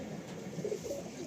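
An Andhra pigeon gives a short, low, soft coo close by, over faint background hiss.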